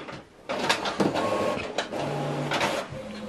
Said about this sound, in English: It's calibrating the printer